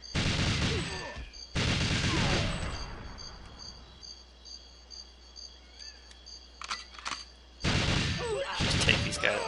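Bursts of gunfire from the GoldenEye video game, three loud volleys separated by quieter stretches with scattered sharp shots and game effects.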